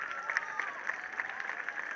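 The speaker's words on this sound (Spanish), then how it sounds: "Que suene fuerte el aplauso para Coco" Audience applause at an outdoor new-talent festival in El Médano, a faint, steady wash of clapping with scattered sharper claps and no voices over it.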